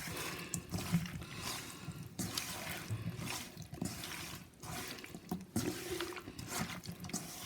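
Cauliflower florets being rinsed in a kitchen sink while cooking cauliflower chilli 65, with running water splashing and sloshing steadily and fairly close throughout.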